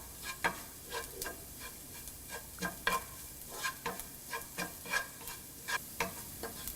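Spices such as chili powder and garam masala stirred and sautéed in a pan for egg curry, with a faint sizzle under repeated scraping strokes of a spoon at a steady, unhurried rhythm.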